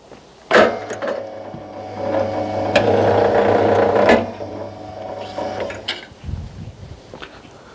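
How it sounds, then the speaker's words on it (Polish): A wire stripping machine runs as a copper cable is fed through it, a sudden mechanical whir building into a grinding, rattling hum for several seconds, then clunks and handling noises as it slows, loud and close. "Zobaczymy, jak maszyna sobie poradzi z tym kablem."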